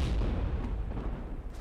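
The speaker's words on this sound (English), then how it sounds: "tank buster cannon. I guess that's what that was, which you just barely saw with the blue bubbles." Heavy Goliath tank buster cannon fire in the strategy game Zero-K, a loud, sustained low rumbling boom that fills the short moment with no speech.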